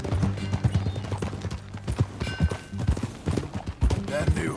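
Horse hooves clip-clop steadily as a rider travels in Red Dead Redemption 2, the uneven thudding steps mixed with music and a brief whinny-like sound, continuous throughout.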